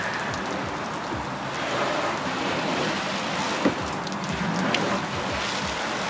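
Water from a hose rinses dried ocean salt off a fishing kayak, a steady close spray hiss that continues throughout, with a couple of small knocks and no talking.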